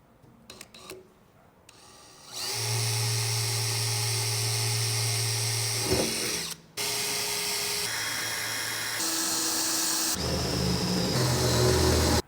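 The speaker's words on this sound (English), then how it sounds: "We measured 3 times, and we're just going to drill once." A power drill whines steadily as it bores a 5/16 inch hole, pausing briefly partway and then resuming at a higher pitch, with no talking.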